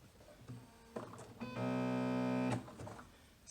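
A sewing machine stitches a zigzag, with short stop-start bursts and then one steady whirring run of about a second before it slows and stops.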